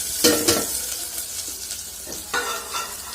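Green chilies and chopped onion frying in oil for Chittagong-style loitta fish bhuna. Two bursts of scraping stirs rise over a low, steady sizzle, close by, with no talk.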